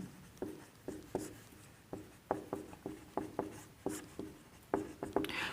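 Pen writing notes on paper during a chemistry class, a series of soft, close scratching strokes in an irregular rhythm, quiet with no talk over it.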